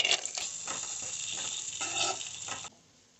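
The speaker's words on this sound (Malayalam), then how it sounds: "നെയ്യ് ഒഴിച്ച് കൊടുത്ത് നമ്മൾ തേങ്ങ ഇട്ട് കൊടുക്കും." Grated coconut sizzles loudly in hot ghee for kadala pradhaman payasam, a bright continuous frying hiss with stirring scrapes that cuts off abruptly near the end, leaving quiet.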